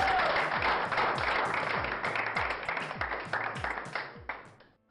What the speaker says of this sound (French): j'aimerais inviter notre chère Madame Blease de venir et couronner notre gagnante sous vos applaudissements